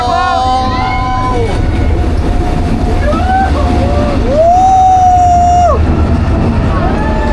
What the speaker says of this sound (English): We see how big the train is.